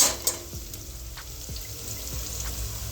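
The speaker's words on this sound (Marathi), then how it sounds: "आता आपण काजू ॲड करणार आहेत." Cashews tipped into onion and whole spices in a biryani pan bring a soft steady sizzle, with a few light clinks and taps from the pan at the start and scattered through.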